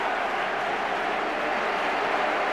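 Large stadium crowd of about 39,000 at Villa Park welcoming players onto the pitch for a 1990 FA Cup semi-final, a steady, loud, continuous roar of cheering and applause.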